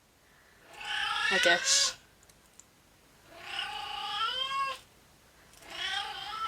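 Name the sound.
cat meowing for attention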